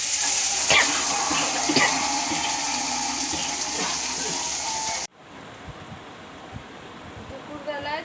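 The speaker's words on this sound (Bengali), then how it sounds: "শুকনো লঙ্কা দিয়ে ফোড়ন দিয়ে নিচ্ছি" Dried red chillies crackle and sizzle loudly in hot oil while tempering, a dense close hiss that cuts off abruptly, leaving quieter kitchen noises.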